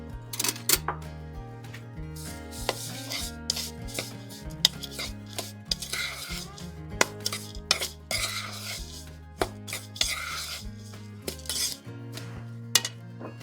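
Spoon or whisk clinks and scrapes against a bowl while dry ingredients with salt are mixed for a Swedish rhubarb pie, light irregular taps over steady background music.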